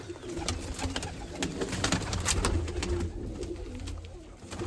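A Shakha breed pigeon coos close by in a continuous throaty run, with light rustling around it and no voices.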